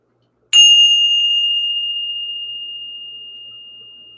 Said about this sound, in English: But let's ring the bell.